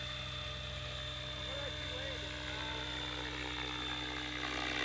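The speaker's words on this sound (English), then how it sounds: "That helicopter ain't even breaking a sweat right there." A T-Rex 700 RC helicopter on its first flight hovers nearby with a steady, high-pitched rotor and motor whine, a constant drone that stays loud throughout.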